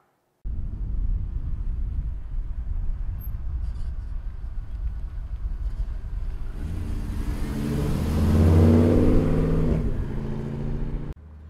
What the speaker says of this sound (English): let's take this 56 big window for a ride